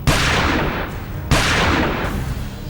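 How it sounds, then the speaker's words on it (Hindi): Two loud, broadband blasts about 1.2 seconds apart, each with a sharp onset and a long rolling decay, from explosions inside the Pathankot air force base during a terror attack; no talk. "अभी अभी ताजा 2 बड़े धमाके सुनाई दिए हैं।"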